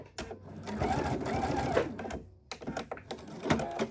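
Sewing machine running a top stitch and reversing to lock it, rapid mechanical stitching in two close bursts with a short pause between.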